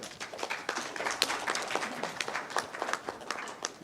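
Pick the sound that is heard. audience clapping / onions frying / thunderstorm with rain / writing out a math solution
audience clapping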